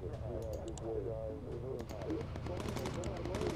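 Rapid machine gun fire from a bomber's turrets in the World War II air combat game Bomber Crew, a rattling stream of shots under continuous game noise and someone talking.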